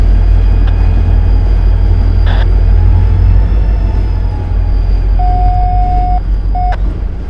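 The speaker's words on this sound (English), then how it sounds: "Our bouncy locomotive. Watch him rock, you guys." Freight locomotive 3087 rumbles loudly along the rails in a steady low drone, with a clank and a long steady tone near the end.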